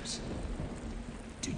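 Steady rainfall and a low rumble of thunder in the video game Deadly Premonition, a constant wash of rain with brief brighter splashes near the start and end.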